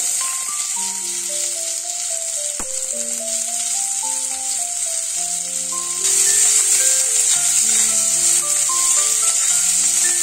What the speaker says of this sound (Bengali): এই পেঁয়াজটা খুব লাল করে ভাজবো না